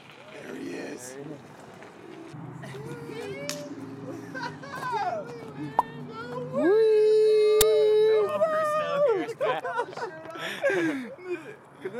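A dog howls in long, wavering tones that rise and fall, then whimpers in shorter whines, close and loud, with people talking nearby.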